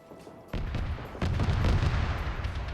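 Gunfire during a PvP military video game match between UN and Russian sides: a sudden burst of shots, then heavier, rumbling fire that keeps rolling on, dense and fairly close, with no voices over it.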